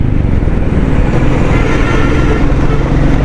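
A Royal Enfield Bullet 350 motorcycle engine running close by, a loud, dense, continuous low thumping rumble that holds steady throughout.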